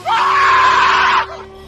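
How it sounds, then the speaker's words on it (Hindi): A single loud, sustained scream rises sharply, holds steady for about a second, then cuts off into a faint tail, used as a sound effect in a Hindi horror story about a cursed statue in a ruin. "मूर्ति की बाहों में जाते ही दिनेश की चीख गूंज उठी।"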